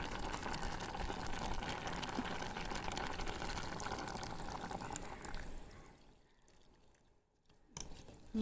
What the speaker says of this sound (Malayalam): ഇനി പാകത്തിന് വെള്ളം ഒഴിച്ചിട്ട് നമുക്ക് ശർക്കര ഇതിലേക്ക് ചേർത്ത് കൊടുക്കാം